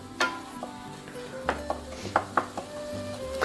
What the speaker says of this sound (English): So we're just going to stir this up a little bit.